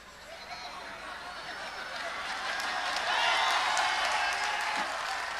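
Comedy show audience applause swelling from scattered claps into a steady, dense clatter that fills the room, with no talking over it.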